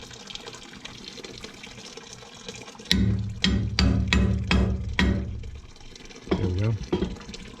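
Water and gunk flush out of a steam trap strainer in a rough, gushing burst of several surges that then trail off, with a brief spoken remark over the rushing liquid.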